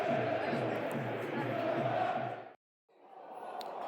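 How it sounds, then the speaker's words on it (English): Football fans at Hillsborough, Sheffield, applaud in the 10th minute for Barry Bannon, a distant roar of crowd noise that cuts out briefly and then resumes more faintly. "This is the 10th minute applause for Barry Bannon"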